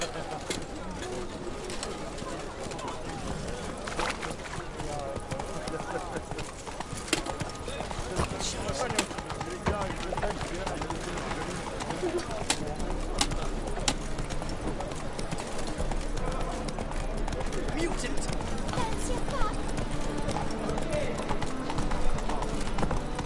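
Roach, Geralt's horse in The Witcher 3 on PS5, clip-clops at a steady walking rhythm through an outdoor scene, with pigeons cooing and birds calling in the surrounding ambience.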